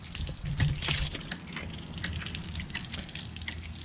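Gravity-fed water rushes and splashes through a hydraulic ram pump supplied by two hoses, a soft, irregular gushing with drips and spatters, quiet and close.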